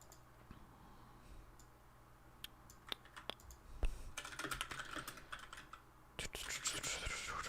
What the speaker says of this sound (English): I'm just bad at typing.